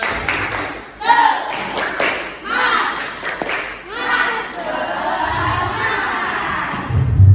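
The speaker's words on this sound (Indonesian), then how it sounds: "tepuk semangat dulu dong" A classroom doing tepuk semangat, the rhythmic spirit clap, during a maths lesson: bursts of group clapping and chanting in a set pattern, with the teacher's voice and the class's shouts mixed in.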